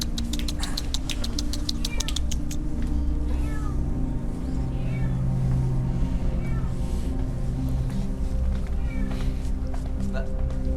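A cat meows several times, moderately close, mixed under people talking in an Indonesian supernatural-themed television show, with a constant bed of chatter and room noise throughout.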